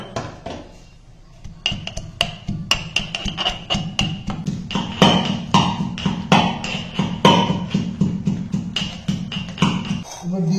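Ginger and garlic pounded in a mortar and pestle, a steady run of sharp metallic knocks and thuds repeating close by, with a low background hum and faint kitchen clatter.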